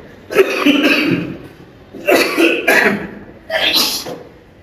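Three bursts of harsh, throaty coughing, each a rough cluster lasting about a second, loud and close with brief pauses between.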